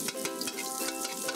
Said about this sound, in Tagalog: Chef, gisa ko na itong bawang